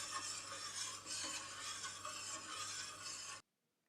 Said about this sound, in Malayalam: ഇത് നമ്മൾ ഒരേ ഡയറക്ഷനിലേക്ക് ഇങ്ങനെ കൈയെടുക്കാതെ ഇളക്കിക്കൊണ്ടിരിക്കണം.